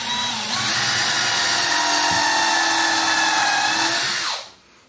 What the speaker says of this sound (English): We're going to countersink them in the sides to help hold this guy together.